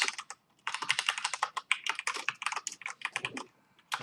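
Rapid typing on a computer keyboard, close and fairly loud, in irregular bursts of clacking keystrokes with short pauses, no voices.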